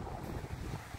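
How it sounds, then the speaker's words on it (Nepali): Cold wind blowing outdoors by the sea at Akko in northern Israel, a steady low rumbling buffet against the microphone that continues throughout the short stretch. "चिसो हावा चल्दैछ हो"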